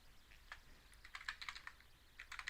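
Quick bursts of computer keyboard typing, entering a cheat command into a Harry Potter and the Sorcerer's Stone PC game, irregular clustered clicks, close and fairly quiet, with no voices.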